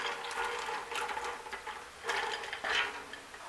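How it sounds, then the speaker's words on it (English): Groundnuts tipped into a pot of water for ndole, a quiet, uneven series of rattling, clicking bursts as the nuts tumble in, heard alone with no talk. "and then you put your groundnuts."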